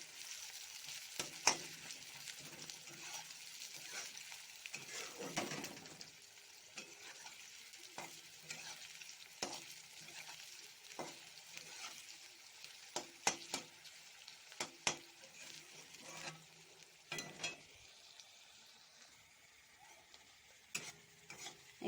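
Chopped onions fry quietly in a pan while a spatula stirs them, soft sizzling broken by repeated sharp scrapes and taps of utensil against metal, fairly faint and without speech.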